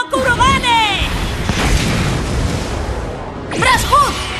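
A cartoon magical cannon fires a booming, whooshing blast in an anime battle, a loud burst swelling and trailing off, with shouted voices before and after it.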